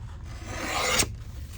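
Paper trimmed on a Christmas journal page gives a soft dry rasping cut that swells over about a second and ends in a sharp snip, quiet and close with no voices.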